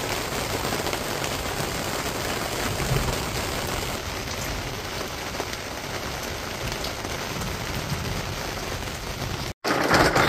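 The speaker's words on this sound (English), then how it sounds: "Now we got hail." Hail patters down densely and continuously in Glendale, Arizona, a loud steady hiss of pellets striking surfaces, briefly cutting out near the end.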